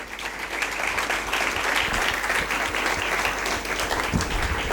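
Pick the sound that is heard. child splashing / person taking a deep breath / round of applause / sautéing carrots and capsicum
round of applause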